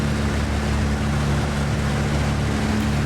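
A Piper PA-38 Tomahawk light aircraft engine in the X-Plane 11 flight simulator drones steadily with a low, even propeller hum, loud and continuous throughout with no talking.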